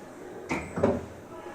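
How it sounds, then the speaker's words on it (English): A door being closed in a meeting room, two soft thuds close together, a brief push and then the latch settling, with quiet room tone around them. "Do me a favor and close that door, would you?"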